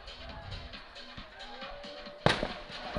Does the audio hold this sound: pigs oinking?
no